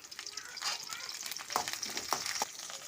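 Curry leaves dropped into hot oil for Kerala beef peralan, crackling and sizzling close up with a few sharp spits and pops.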